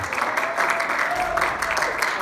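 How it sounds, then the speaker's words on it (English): An audience at a youth service gives a short burst of steady applause, a room full of clapping hands heard fairly close. "a round of applause for them"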